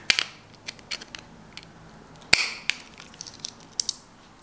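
A screwdriver loosens the cable clamp screws on a 13 amp plug with a series of small, close metallic clicks and creaks, one sharper snap near the middle, in a quiet room.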